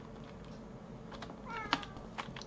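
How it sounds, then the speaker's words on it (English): A kitten meows once in a Morrowind role-play game scene set in Vvardenfell, a short, fairly faint cry partway through over a steady hum of background ambience, with soft clicks around it. "Now, I hear the kitten."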